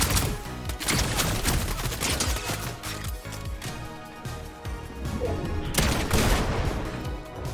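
Dense, loud bursts of gunfire from a mythic weapon in Fortnite, shots fired in quick succession over busy in-game effects, continuous throughout without talk.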